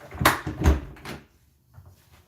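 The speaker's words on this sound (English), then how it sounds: "let me just try and open the door." A door swings open with a couple of loud clunks and a rattle, then a quieter scrape and soft knock as it settles.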